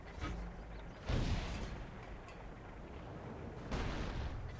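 Tank cannon shots in the World of Tanks video game, with two heavy booming blasts a few seconds apart over a low rumbling background.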